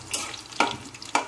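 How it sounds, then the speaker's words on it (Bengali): Chopped onions fry in hot oil until brown, giving a steady close sizzle punctuated by two sharp stirring scrapes. "এই পেঁয়াজ কুচিটা এখন আমি বেরেস্তা করে নেব প্রথমে"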